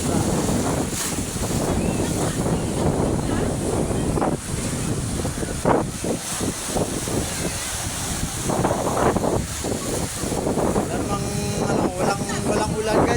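Strong wind buffeting the microphone over the roar and crash of big sea waves, a constant loud rushing noise with surges, while a person talks intermittently.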